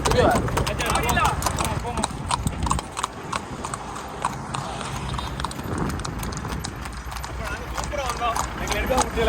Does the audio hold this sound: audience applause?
no